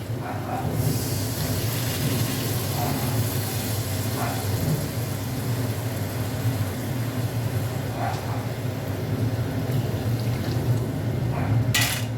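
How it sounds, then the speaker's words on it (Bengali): Water poured into a hot pan of frying masala for a low-oil pomfret fish curry, setting off a steady, close hiss and sizzle that runs almost unbroken after the first second, with a few faint utensil clinks underneath. "কষে নিই, একটু জল দিয়ে দিচ্ছি।"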